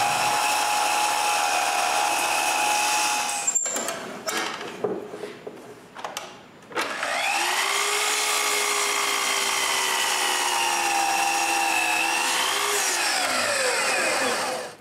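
A power tool cuts 45-degree angles in wood for a tray, its steady high whine broken by a short pause with knocks and handling, then spinning up again to a long, wavering whir before winding down.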